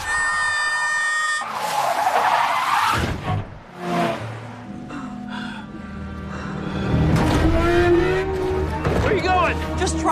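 Tires squeal and skid during a chaotic animated car chase and fight, with long whining screeches over engine roar, bursts of impact noise and excited voices and music throughout.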